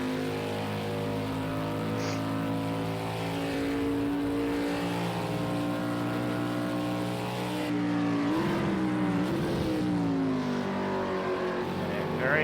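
A Ford Mustang Boss 302R race car in Project CARS, lapping Road America with a loud, steady engine drone throughout, its pitch rising and shifting near the end under faint talk.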